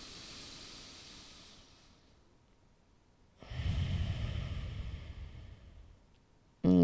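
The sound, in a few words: slow deep breathing during bedtime yoga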